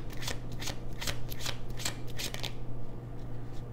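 A deck of tarot cards is shuffled over and over, giving rapid riffling bursts in a steady rhythm that sound close and clear, then fade toward the end.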